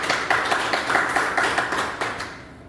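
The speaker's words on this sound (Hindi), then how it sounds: "लेकिन उनको बुलाने से पहले एक जोरदार ताली मैं चाहूंगा।" Loud, sustained applause from a business meeting audience, dense clapping fading toward the end, with no talk over it.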